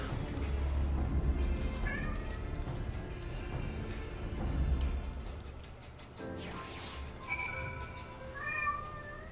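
A cat in Final Fantasy XIV meows repeatedly, with drawn-out, rising calls over a low hum and faint ticking, fairly close and clear.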